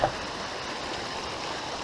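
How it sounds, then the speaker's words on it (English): Steady broadband rush of creek water flowing along Forney Creek, a continuous close, even wash with no breaks and no voices. "Looks like this is our first legitimate creek crossing."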